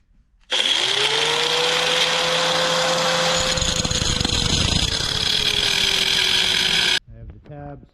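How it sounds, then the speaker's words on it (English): An angle grinder spins up and grinds metal on a Tao Tao YFZ250 ATV part. It gives a loud, whining, sustained shriek for about six seconds, then stops abruptly, followed by a few brief sounds. "I'm just gonna take a little bit off of that with the angle grinder"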